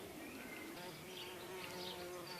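A bee, a common carder, buzzing steadily and close among garden lupines, a continuous drone with no voices.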